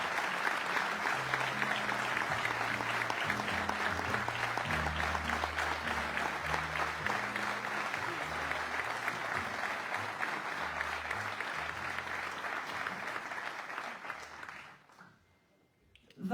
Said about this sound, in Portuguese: Peço um forte aplauso para estes elementos que acabaram de tomar posse.